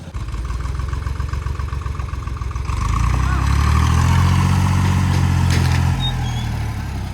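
A vehicle with a broken belt, repaired by the roadside in a forest area near Nashik, Maharashtra, starts up and runs, its deep engine rumble swelling loud and steady after a few seconds of lighter background noise.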